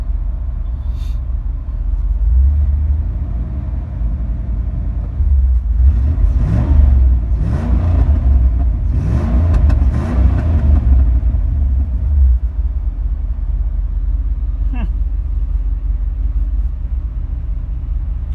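A 1987 Chevrolet Camaro IROC, not driven in years and idling a little rough and low, rumbles steadily up close, then revs up several times in a burst of rising engine roars before settling back to idle.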